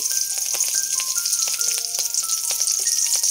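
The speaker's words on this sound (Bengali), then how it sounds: "ভয় লাগে কাঁচা লঙ্কা দিলে, এত ছিটকে আসে।" Green chillies sizzle and spit in hot oil, a steady close frying hiss broken by sharp pops and crackles that keep bursting through the whole stretch, with no voices.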